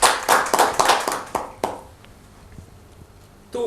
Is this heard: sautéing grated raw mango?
no